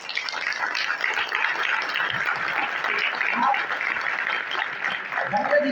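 An audience at a motivational program breaking into sustained applause, dense, bright clapping that keeps going at an even level throughout.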